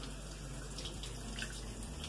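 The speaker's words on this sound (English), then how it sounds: "you have to rinse this stuff really good because that starch is sticking so good to this rice" Cold tap water runs steadily over sushi rice being rinsed in a home kitchen, a continuous faint splashing hiss with no talk.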